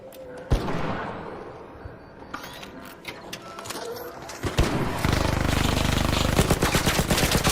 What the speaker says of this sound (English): Is that a turret? Because that feels like a turret.